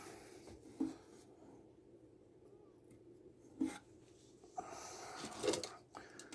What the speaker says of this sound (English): you can use your rag and just kind of wipe the surface